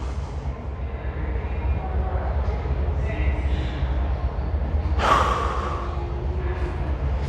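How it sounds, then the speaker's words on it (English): A slow, deep inhale taken during a spine stretch, close and breathy, rising over several seconds against a steady low background rumble, with one brief louder rush of air near the end. "Then I'm gonna take a deep breath in."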